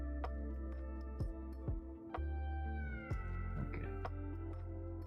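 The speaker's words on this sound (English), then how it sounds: "some of those meows" A cat meows repeatedly, several close, clear, drawn-out calls in a row, loud against a steady background hum, with no talk.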